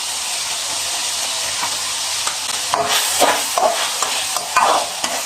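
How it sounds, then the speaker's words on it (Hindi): Vegetables stir-fry in a hot pan for restaurant-style vegetable fried rice, with vinegar and ketchup added. A loud, steady hiss fills the clip, and in the second half a spatula scrapes and tosses the pan in short bursts. "सब्जियों को हमने अच्छी तरह से भून लिया है।"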